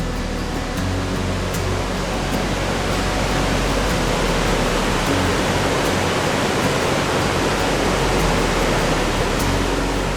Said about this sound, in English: This is the base of Vernal Falls